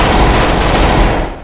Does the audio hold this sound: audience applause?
no